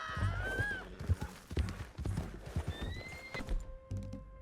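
Hooves clop in an uneven rhythm while a horse lets out a shrill whinny near the start in Red Dead Redemption 2, with more hoofbeats and faint noises following.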